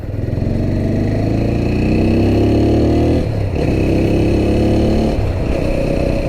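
A TVS Apache RTR 200 4V motorcycle with a five-speed gearbox pulls away close by, its engine rising steadily in pitch through two accelerations with a brief gear-change dip between them.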